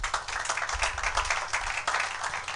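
Church congregation clapping together, a dense, continuous burst of many hands held at an even level for a few seconds with no voices over it.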